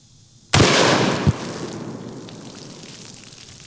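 A single loud, sharp gunshot from a PTR-91 semi-automatic 7.62 battle rifle cracks out suddenly, followed by a smaller secondary pop and a long fading echo.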